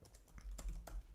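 Computer keyboard typing indoors, a few quick soft keystrokes and taps spread across a brief moment, faint and close.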